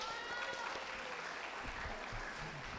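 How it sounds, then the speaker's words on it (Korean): Applause from a school admissions-session audience honouring a graduate picked for the national skills team, a steady, moderately faint wash of clapping with faint speech mixed in throughout. "이거는 박수 한번 나와야 할 것 같은데요."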